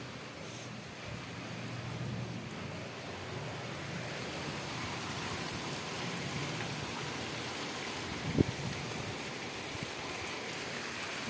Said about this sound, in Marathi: तर बघा असा पाऊस येतो आहे